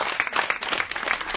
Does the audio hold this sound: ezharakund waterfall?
no